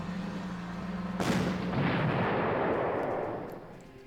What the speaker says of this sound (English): So I think it's better to level bomb the city again.